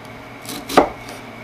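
Single sharp chop of a kitchen knife slicing down through an onion while preparing guacamole, a soft crunch followed by a firmer tap on the board, close and alone.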